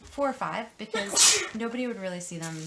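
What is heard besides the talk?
sneeze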